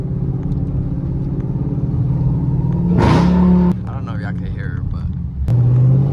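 A supercharged car engine idles with a steady rumble, then revs sharply a couple of times, the rising blips bringing a brighter whine over the low engine tone; recorded close and loud.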